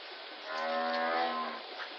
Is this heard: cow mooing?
yes